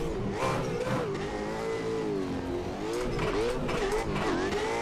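A drift car engine in a racing video game revs hard in fourth gear, its loud, continuous pitch rising and falling through throttle changes, with a hint of tire squeal.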